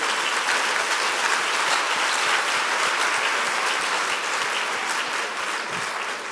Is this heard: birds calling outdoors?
no